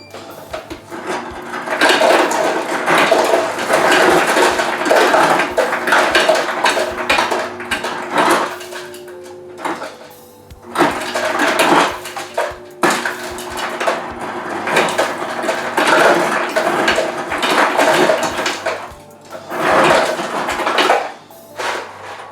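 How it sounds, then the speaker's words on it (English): Ice cubes clatter into a kitchen blender for a smoothie in repeated bursts of hard rattling and knocking, separated by brief pauses, close and fairly loud. "Get some ice and put it in the blender."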